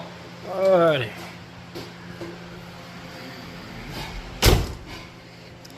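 The door of a 1999 Chevy Silverado truck with a 5.7 engine shuts with a single close, loud thud near the end, after a stretch of nearby talk and a quiet background hum.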